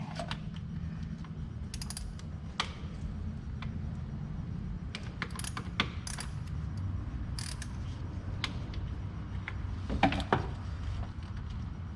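Bolts being worked loose from the oil cooler of a Chevy 1.8 engine, a run of light metallic clicks and ratcheting ticks scattered over steady low workshop hum, close and moderately quiet with no talking.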